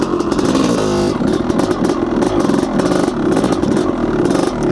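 A Honda CR500 two-stroke enduro motorcycle revs hard on a single-track trail, its loud, close engine rising and falling in rapid pulses with clattering mechanical noise, no voices over it.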